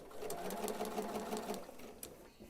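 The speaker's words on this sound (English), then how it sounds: "I'm just going to start sewing this long seam" A sewing machine stitching a long seam on a pieced quilt backing, running steadily with a fast, even mechanical chatter up close, then easing off near the end, with a voice talking briefly over it.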